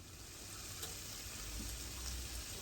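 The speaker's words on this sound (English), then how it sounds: "I went ahead and put a single layer of our shrimp into the skillet" Shrimp sizzle in olive oil in a hot skillet, a steady dense crackle and hiss that is faint and even throughout, with no voices over it.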